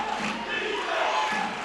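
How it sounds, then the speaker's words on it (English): Crowd in a gym at a women's college basketball game, Trinity Valley Lady Cardinals against Paris, raising a rowdy, sustained roar with shouting mixed in, moderately loud and continuous with no distinct break. "that's exactly what Trinity Valley needs right now, is this crowd to get rowdy and get into it"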